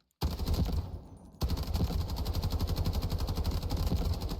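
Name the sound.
gunfire at the firing range in video game Delta Force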